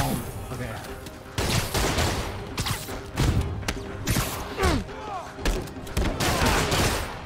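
Game gunfire in Marvel's Spider-Man Remastered on PC, repeated loud shots and impacts in irregular bursts throughout, mixed with swooshing action sounds and some voices.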